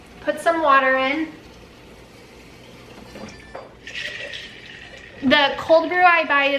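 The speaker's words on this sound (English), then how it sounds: "Put some water in." Water runs into a big mason jar in a steady, splashy pour lasting about a second and a half, set between stretches of someone talking before and after.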